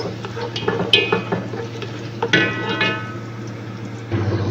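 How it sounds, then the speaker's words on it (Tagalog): Black raisins and carrots fry and sizzle in a pan while a utensil stirs and scrapes, with clinks against the metal over a low steady hum. "prito-prito lang natin ang pasas na itim at saka ng carrots"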